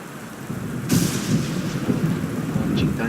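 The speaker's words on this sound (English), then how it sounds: "Launching thunder." A sudden crack of thunder breaks into a low, rolling rumble that carries on under steady rain in the stormy night of the game Gone Home.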